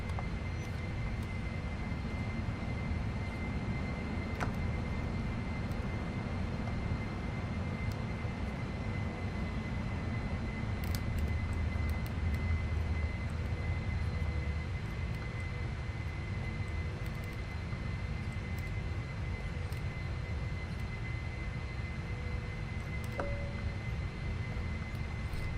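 Airliner engines roar steadily as the plane climbs out after takeoff in a Prepar3D flight simulation of a Polar Air Cargo flight from Cincinnati, a loud continuous drone with a faint high tone running throughout.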